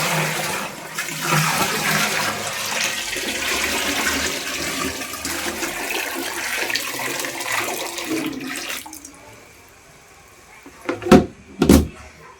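Water gushes steadily into a bucket for a bath, a loud continuous rush lasting about nine seconds before stopping, followed by a couple of short knocks or clanks near the end.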